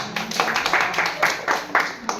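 Brisk, rhythmic applause from children for a child's song in a classroom at a girls' high school during teacher training, with voices mixed in.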